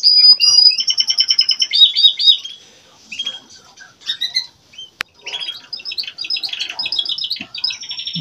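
Recorded bird song plays back loud and close, with rapid trills and repeated chirping phrases, some pauses between bursts, and no talk over it.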